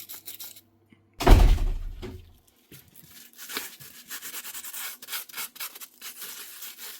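Rust on a Makita 36V BHR262 drill part is rubbed off by hand, a soft scratchy scrubbing that repeats in short close strokes after a louder thunk near the start.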